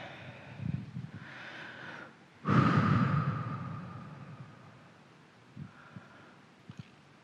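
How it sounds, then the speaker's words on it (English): A deep breath drawn in and let out slowly, a single soft rushing inhale followed by a long fading exhale, close and fairly quiet. "Take a deep breath."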